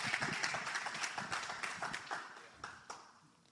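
Applause from a church congregation, fairly faint and dying away into scattered claps toward the end.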